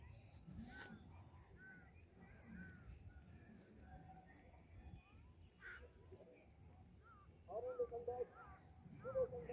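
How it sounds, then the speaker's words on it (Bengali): Crows caw in the open outdoors, the calls coming from a short way off and clustering louder toward the end over a steady hiss of insects and distant background noise. "কাক এসেছে"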